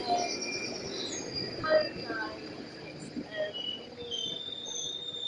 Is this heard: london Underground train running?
yes